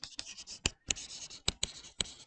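Chalk or marker strokes on a board during an accounting lesson, a series of short scratchy taps and squeaks with brief pauses, close and fairly quiet, no talking.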